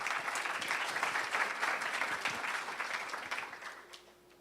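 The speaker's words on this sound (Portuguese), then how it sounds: "Uma salva de palmas aí para o Luiz." An audience at a family-business forum applauds for a speaker named Luiz, with steady clapping that swells briefly and then fades away over about four seconds.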